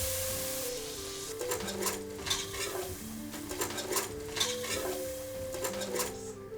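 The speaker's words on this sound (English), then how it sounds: "when the fat has left the bacon, you can add in the flour and give it a good whisk" A whisk scraping flour into rendered bacon fat in a pot for a Westfall stew, rhythmic metallic stirring strokes and clinks against the pot over a faint sizzle, close and alone, with soft music underneath.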